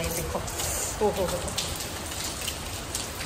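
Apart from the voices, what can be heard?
heavy rain falling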